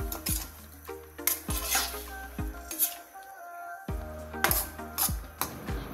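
A sardine dish stirred in a pan, with repeated sharp metallic scrapes and clinks of a utensil against the pan in an irregular rhythm, close and fairly loud with brief pauses between strokes.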